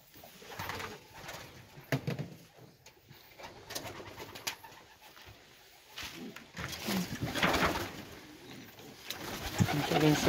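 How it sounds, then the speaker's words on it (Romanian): Pigeons coo in an aviary, soft repeated throaty calls rising and falling at close range over a low background. "Avem și porumbei"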